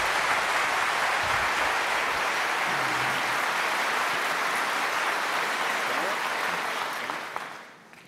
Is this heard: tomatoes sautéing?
no